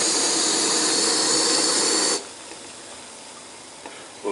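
Water at a rolling boil on an Optimus Crux stove in a Terra HE cookset pot, the burner roaring with a steady loud hiss that cuts off abruptly halfway, leaving a faint quiet bubbling.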